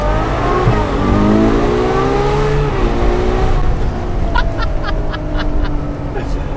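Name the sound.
Ferrari 812 Superfast naturally aspirated V12 engine revving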